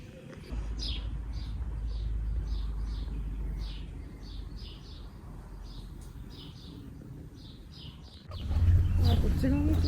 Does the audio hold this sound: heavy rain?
no